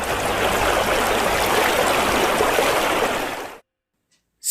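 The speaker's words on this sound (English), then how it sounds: "and the water flowing in a river." River water flows and rushes in a steady, loud, broadband wash that continues unbroken for several seconds before cutting off abruptly into silence.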